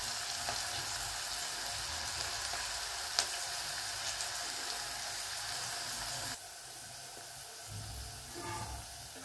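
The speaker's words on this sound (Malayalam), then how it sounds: "ഇനി ബാക്കിയുള്ളത് അതുപോലെ തന്നെ ഇട്ടിട്ട് ഫ്രൈ ചെയ്തെടുക്കാം." Onion pakoda frying in hot oil, a continuous hissing sizzle with a single sharp pop, that softens and turns quieter for the last few seconds; no one speaks.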